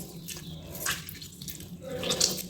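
Homemade mozzarella cheese pressed and squeezed by hand to drain its whey, giving soft wet squelches and light dripping and trickling water, close by and quiet.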